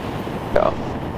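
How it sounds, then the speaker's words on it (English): Steady wind rushing across the microphone outdoors at an airfield during a small training aircraft's landing and taxi, a broad continuous noisy roar with a brief louder gust midway. "it's just a little too windy"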